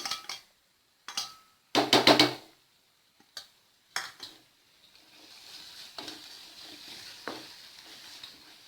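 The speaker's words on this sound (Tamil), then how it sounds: "இப்போது நம்ம வறுத்து வச்சுருக்கிற இந்த மெலன் சீட்ஸு அப்புறம் முந்திரி பருப்பு இதெல்லாத்தையும் போட்டு கலந்துடலாம்" Beetroot halwa stirred in a pot with roasted melon seeds and cashews: quiet, scattered scrapes and clinks of a spoon against metal in short bursts, then a soft continuous sizzle.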